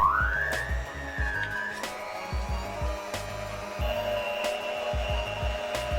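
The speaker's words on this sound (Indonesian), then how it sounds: "Mixer sebentar asal sampai kalis selama 5 menit." An electric mixer kneads bread dough made with margarin or butter and salt for cromboloni, a steady motor whine rising then settling into a continuous hum with rhythmic low thumps of the dough, alone without talk.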